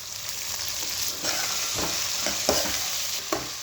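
Broad beans tossed into hot oil with onion, ginger paste and green chilies sizzle steadily in a pan, with several scraping stirs of a spatula cutting through the frying hiss, close and fairly loud with no talk.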